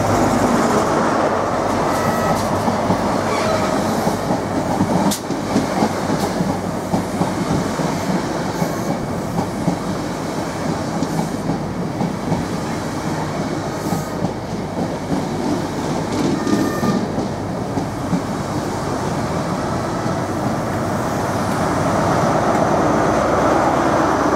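A British Rail Class 43 high speed diesel train rumbles steadily alongside a station platform, with continuous rolling noise and occasional squeals and clicks, close and fairly loud throughout.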